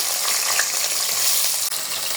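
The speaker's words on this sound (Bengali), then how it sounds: "পেঁয়াজ দিয়ে দিলাম" Onions sizzle steadily in hot oil in a kadai, a dense, even frying hiss close by, heard alone with no talking.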